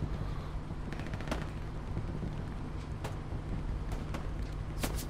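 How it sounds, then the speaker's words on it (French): Distant gunfire on a hill in the video game Hell Let Loose, scattered bursts and single cracks over a low steady rumble, faint and far off. "C'est en train de tirer sur la colline côté gauche"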